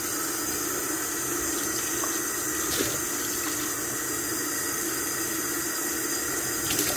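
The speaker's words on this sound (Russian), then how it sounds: "Так, 2 стакана воды, а сейчас из-под крана." Water pours steadily from a kitchen tap into a sink, a constant hissing splash with a few faint clinks, close and uninterrupted.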